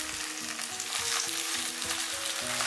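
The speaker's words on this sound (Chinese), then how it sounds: "炒香后再放入洗干净的白菜叶，" Cabbage leaves frying in a clay pot with a little sesame oil, scallion, ginger, garlic and small chili peppers: a steady, close sizzle and crackle with faint stirring, continuous throughout and without voices.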